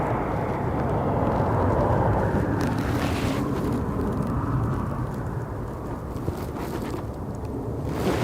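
An EasyJet airliner passing at Aberdeen Airport, a broad continuous roar heard from a distance, steady throughout with wind buffeting the microphone.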